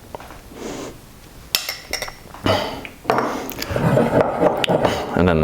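Tomato paste being mixed into ingredients in a dish, with spoon and utensil scrapes and clinks against the bowl. The sounds come in irregular bursts, close and moderately loud, and grow busier and more continuous toward the end.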